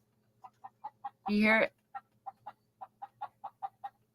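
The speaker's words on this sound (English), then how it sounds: "There's chickens here. They run around outside." Chickens clucking outdoors where they roam, a rapid series of short, fairly close clucks in a steady rhythm, with one brief spoken question breaking in partway through.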